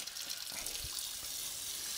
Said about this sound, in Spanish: Este es el grifo. Se saca, se saca de aquí, como veis. Y mirar tenemos agua fría